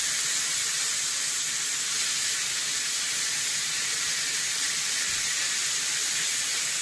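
Bacon fries in a pan over extremely high heat, giving a loud, steady, hissing sizzle that holds evenly throughout with no voices.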